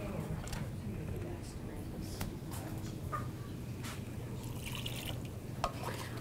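One and a half cups of water poured into a pot of vegetable meatball soup in a kitchen, a soft continuous splashing trickle with a few drips and clinks, fairly close and steady throughout.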